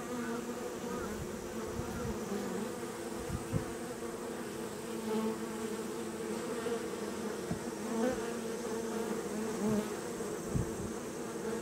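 Honeybees buzz steadily during a beehive inspection, a dense continuous hum from many insects close by, with occasional soft knocks of frames being handled and no talking.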